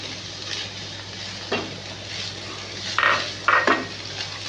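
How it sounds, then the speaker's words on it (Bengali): Soybean chunks are stirred into chopped tomato in a hot pan, a low steady sizzle with a few scraping strokes of a utensil and light metallic clinks, close and alone. "এবার আমি এর মধ্যে সয়াবিনটা দিয়ে দিলাম"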